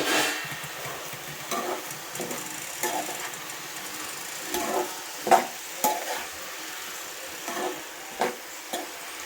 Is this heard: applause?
no